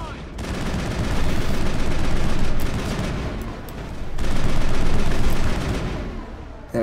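Turret gunfire in the video game Mass Effect, sustained rapid automatic shots in two loud swelling volleys separated by a brief lull.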